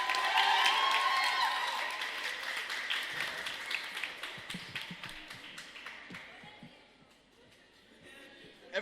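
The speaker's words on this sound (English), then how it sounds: "And now, a round of applause for our next speaker, Nadim Fayyad" Audience applause breaking out after a speaker is introduced at a talk, dense clapping that thins into scattered claps and fades away, with a voice briefly audible.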